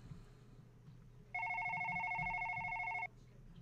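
A telephone rings in the horror video game One Late Night, a steady electronic two-tone trill lasting under two seconds and standing clearly above a quiet, murky background.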